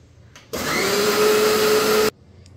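A mixer grinder grinds coriander into a paste, starting abruptly, running as a loud steady whirring roar for about a second and a half, then stopping sharply.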